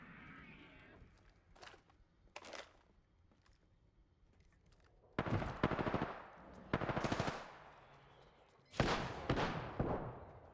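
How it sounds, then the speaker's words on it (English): Heavy-ammo gunfire in a video game, fired at a creature: a few scattered single shots, then three long, loud rapid-fire bursts over a faint background. "it's me shooting at a creature"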